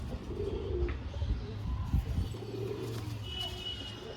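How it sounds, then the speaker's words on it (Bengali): Red Madras pigeon cooing in low, soft rounded phrases close by, with faint chirps and a steady low background hum throughout. "লাল জিরিয়া ম্যাড্রাস পায়রা"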